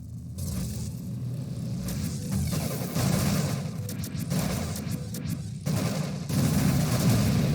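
Enemies shooting in the space shooter Nova Drift: a constant loud barrage of rumbling fire and crashing impacts, with crackling bursts layered on top throughout and no voices.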